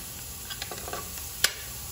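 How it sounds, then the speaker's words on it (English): Onions, shallot and garlic sauté in oil left over from frying fish, giving a faint, steady low sizzle with light stirring scrapes and one sharp utensil tap near the end. "And I'm going to let this saute for like about 2 minutes."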